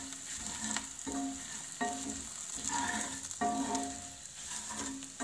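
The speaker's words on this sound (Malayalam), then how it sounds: "എന്നിട്ട് നന്നായിട്ട് അങ്ങ് മിക്സ് ചെയ്യണം." Flattened rice (aval) is mixed in a pan just off the stove, with a steady soft scraping and rustling that repeats in regular strokes, close and fairly quiet.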